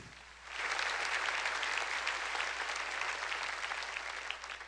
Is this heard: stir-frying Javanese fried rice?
no